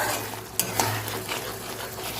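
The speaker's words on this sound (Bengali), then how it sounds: "মশলাটাকে ভালো করে কষে নেব।" Spice paste for khichuri fried in a pan with coriander leaves, a continuous sizzle broken by a couple of sharp spoon scrapes and knocks against the pan.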